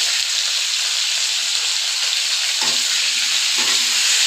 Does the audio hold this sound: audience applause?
no